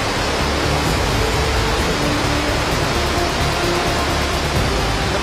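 River rapids rush through a huge cave, Son Doong in Vietnam, as a loud, steady roar of churning water that fills the space and continues without a break, with no voices heard.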